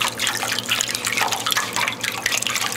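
Water pouring down an interior waterfall feature fed by a pump: a steady, close, splashing trickle with bright droplet patter over a low hum, no talking.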